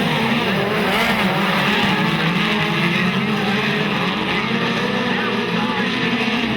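Speedcars roar hard around the Maryborough Speedway dirt oval during a Queensland Speedcar Title race night, engines screaming continuously at full throttle and close by, while a commentator's voice runs underneath.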